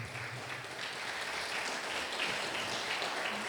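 A church congregation applauds steadily for a few seconds during a service, a dense, even wash of clapping at moderate distance.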